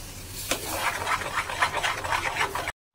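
Spoon working spinach paste and cashew paste together in a pan, a steady rhythmic scraping and rubbing with regular strokes, close and moderately loud, ending in a brief silence followed by a faint tone.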